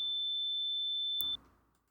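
A steady pure sine test tone plays from FL Studio for just over a second, then cuts off abruptly with a brief click, leaving a faint tail of low noise.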